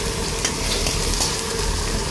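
Chopped onion and garlic sizzle loudly in a hot pan, a dense, steady crackle with faint stirring.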